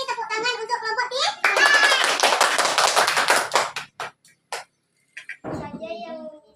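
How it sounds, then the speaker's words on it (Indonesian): A class at an Islamic institute in Kerinci gives group 3 a round of rapid, crowded clapping after their presentation. Voices speak before the clapping, and scattered claps and talk follow it. "Kita beri tepuk tangan untuk kelompok 3"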